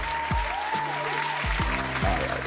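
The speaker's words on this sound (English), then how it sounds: "let's get a round of applause for reaching episode 2 now" Applause rolls steadily throughout, a dense wash of clapping from a crowd, with a few low thumps underneath.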